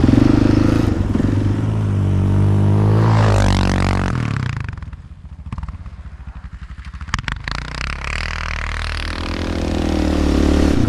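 Honda off-road vehicle riding through deep snow, engine droning loudly then dipping and clattering before revving back up, close and continuous with no talking.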